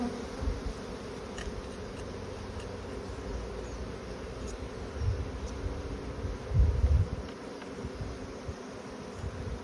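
Honey bees buzz steadily at an open hive during an inspection, a dense, close, continuous drone with faint rustling and a few louder swells.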